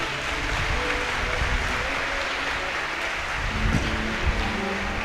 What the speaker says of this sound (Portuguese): Vamos dar uma salva de palmas ao Papa Francisco, né?